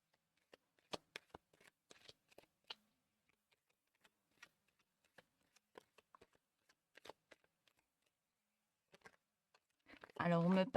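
Cards for a reading are shuffled and laid out, making soft, sparse taps and flicks at an irregular pace in a quiet room. A voice begins just at the end.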